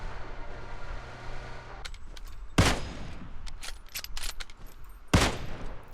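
Gunfire in the PUBG Mobile video game: two sharp, loud shots about two and a half seconds apart, with quieter game ambience and smaller rattling sounds between them.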